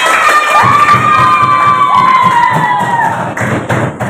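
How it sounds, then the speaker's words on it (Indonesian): A classroom of sixth-grade children claps and cheers for their group, loud shouting and whooping voices over rapid thudding claps, close and lively throughout. "beri tepuk tangan untuk kelompok kita."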